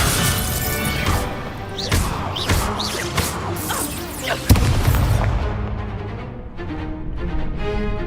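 Spell impact in Hogwarts Legacy, the Descendo spell slamming a target down, heard as several heavy crashing thuds and whooshes over game music, with one sharp slam near the middle.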